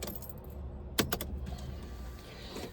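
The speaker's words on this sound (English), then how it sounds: "Just stick the keys in the ignition." Car keys jangle sharply as they go into the ignition of a BMW. A quick burst of metallic clinks stands out against a quiet interior hum.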